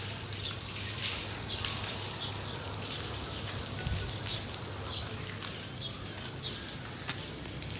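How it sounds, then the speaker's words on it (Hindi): Steady rain patters down continuously, a soft dense hiss of drops on surfaces, with a faint bird calling somewhere in the background. "रहमत की बारिश"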